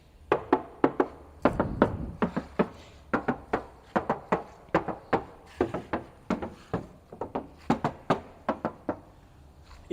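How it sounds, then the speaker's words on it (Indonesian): Knuckles rap repeatedly on the thick metal body panel of a 2003 Chevrolet Zafira, giving a rapid series of close, dull knocks in irregular bursts, with no talking. "Bisa pemirsa dengarkan, saya akan mengetuk."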